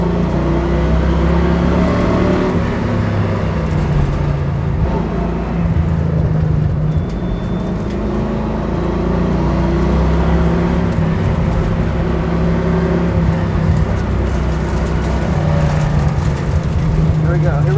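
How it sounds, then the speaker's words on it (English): A 1966 Ford Mustang with an Edelbrock carburetor runs on a race track, its engine droning with a steady low roar and shifting revs as the carburetor cuts off in left turns, heard from inside the car. "This Edelbrock is cutting off on turning to the left."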